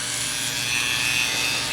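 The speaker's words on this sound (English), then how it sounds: "what I'm using is a moto tool, and I'm going to drill" Rotary moto tool drilling a hole into the hands of a small whittled wooden fisherman carving, a steady high-pitched whine with grinding bite, close and continuous, no talking.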